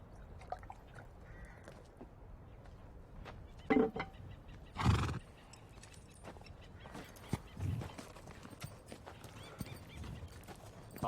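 Horse hooves clip-clop faintly in a film scene with a few louder thuds, and a short neigh rises midway over a quiet background.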